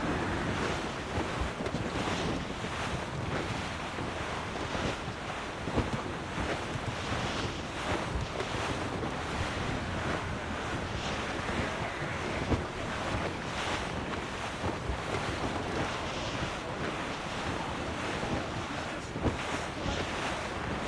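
A sea storm in Assassin's Creed Rogue roars as a steady wall of wind and crashing waves around a sailing ship, dense and unbroken for about twenty seconds with no voices.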